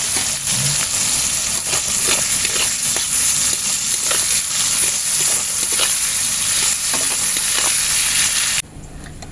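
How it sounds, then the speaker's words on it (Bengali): Onions and green chillies fry in a pan for potato pulao, a loud, close, continuous sizzle with bubbling crackles that cuts off abruptly near the end. "পেঁয়াজগুলো হালকা লাল লাল করে ভাজতে হবে"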